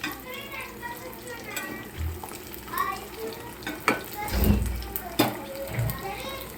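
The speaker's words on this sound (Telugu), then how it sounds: "అవుతున్నాయి ఫ్రై, సెకండ్ ఫ్రై చేస్తున్నాను." Fish sizzling in hot oil during a second fry at a village home, soft crackle and bubbling stirred now and then, with voices talking over it throughout.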